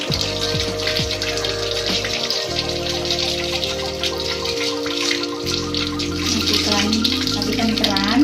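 Tap water runs steadily into a sink during a sterile-area handwashing routine, a continuous splashing gush with a low hum from plumbing or a pump underneath.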